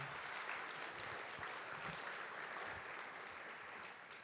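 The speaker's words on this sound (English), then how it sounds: "Can I get one round of applause for Randy" A conference audience applauds in a dense, continuous wash of clapping that sounds faint and distant, holding steady for about four seconds before tapering slightly at the end.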